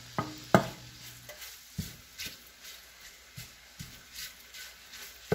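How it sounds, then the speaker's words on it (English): Bacon is stirred in melted butter in a pot, giving a soft sizzle under a series of sharp clinks and scrapes from the spoon, spaced irregularly about every half second to second. "the butter is melted, and I'm just going to put this bacon in. Stir it around"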